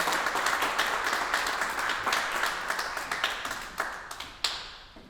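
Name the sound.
audience applause for a panel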